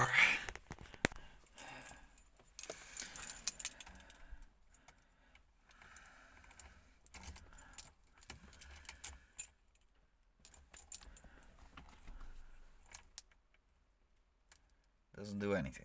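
Car keys jangle in bursts near the ear as someone sorts through a ring to find the right one for a barn-find Opel GT, with clicks and quiet pauses between the shakes.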